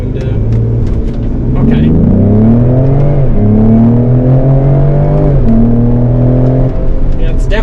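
2020 Ford Explorer ST accelerating hard from a brake-boosted launch, engine roaring loud from inside the cabin and rising in pitch through several gear shifts, with a brief spoken word at the start.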